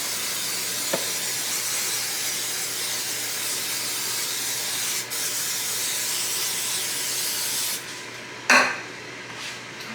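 Cooking spray hisses onto a warmed waffle maker in a kitchen, a steady close spray lasting several seconds, followed by a clatter of utensils near the end.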